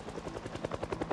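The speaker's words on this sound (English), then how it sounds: "The helicopter decided to make my life hell by circling me." Rhythmic thudding of a helicopter's rotor blades circling overhead in the zombie survival game Project Zomboid, a steady low chop that grows slightly louder, with no speech.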